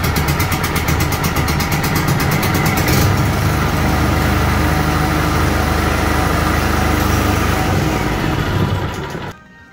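A petrol generator engine started and running on choke, with a loud, steady, continuous engine roar throughout that cuts off sharply near the end.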